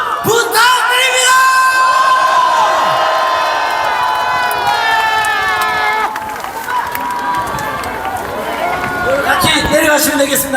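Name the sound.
crowd applause and cheering at a speech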